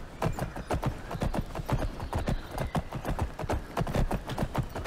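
Horse hooves clip-clopping in the video game Tarlas - Blades of Redemption, a fast, regular galloping rhythm of sharp thuds repeating steadily throughout at moderate volume.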